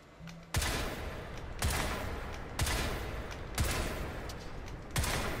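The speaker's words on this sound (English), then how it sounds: "we're going to shoot these targets" Heavy gunshots fired at targets in Crysis 3, five evenly spaced loud blasts about a second apart, each trailing off in a brief decay before the next, with no speech.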